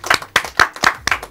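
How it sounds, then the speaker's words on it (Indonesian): A small group clapping hands during a casual Indonesian talk show, several loud close bursts of claps in a quick uneven rhythm over just over a second, with no talking. "Tepuk tangan semuanya."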